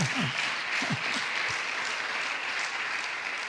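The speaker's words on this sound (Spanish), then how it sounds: "Dar un aplauso a Cristo el Señor" A church congregation applauds during a Spanish-language sermon, steady close clapping throughout, with a few brief voiced calls near the start.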